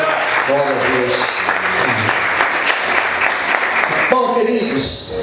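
Congregation members at a Brazilian church service clap steadily and enthusiastically for several seconds while a pastor speaks over the applause.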